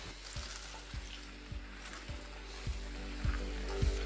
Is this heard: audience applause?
no